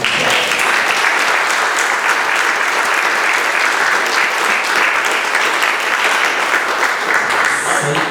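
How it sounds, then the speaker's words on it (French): Sustained, loud, dense applause from an audience at a mayoral candidates' debate, steady throughout with no break. "j'aimerais ça qu'on lui donne son acclamation en ce moment-ci"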